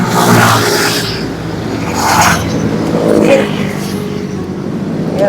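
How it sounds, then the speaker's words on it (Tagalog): Fast vehicles rushing past on a road, a loud continuous roadside roar that swells and fades as they pass, with voices talking over it. "nakakatakot yung mga sasakyan dito"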